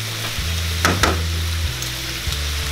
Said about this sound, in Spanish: Vamos a dorar la carnita con los tuétanos.